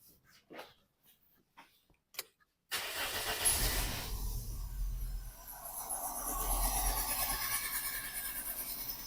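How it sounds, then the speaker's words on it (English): A Toyota car with an engine misfire: a few quiet clicks, then the engine cranks and fires abruptly into a loud, rough idle that carries on steadily to the end. "Then I'm going to start the car and have a look what's going on."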